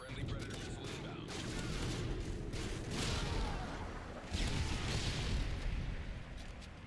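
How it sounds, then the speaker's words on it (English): A flash bang grenade goes off in a shooter video game as a dense, rumbling burst of blasts and crackle. The noise holds loud and continuous throughout, swelling again near the end. "That was a flash bang."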